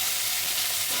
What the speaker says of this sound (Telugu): నేనైతే కొద్దిగా కరివేపాకు అయితే వేస్తున్నాను.